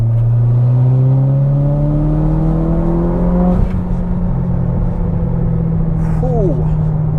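A Mitsubishi Evo X on a dyno in fourth gear, its engine climbing in a loud, rising rev that peaks and cuts off, followed by lower idling hum and a brief whistle-like flutter.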